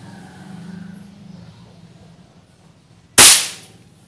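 A single sharp shot from a Bocap air rifle with an upgraded chamber fires loud and close after a few seconds of quiet background hum, its crack decaying quickly.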